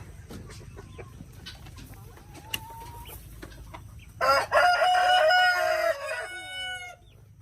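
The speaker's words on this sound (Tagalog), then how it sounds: "ito yung parent stocks natin ng dominant chicken" Parent stock of a dominant chicken breed in a pen, soft scattered clucks at first, then a loud rooster crow near the middle that trails off into quieter clucking.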